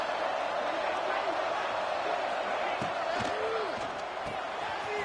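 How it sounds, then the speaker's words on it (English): Dense, steady stadium crowd roar from a college football video game, a continuous loud wash of cheering with faint shouts and whistles rising out of it throughout. "It's early, but this crowd is fired up. Listen to this noise here."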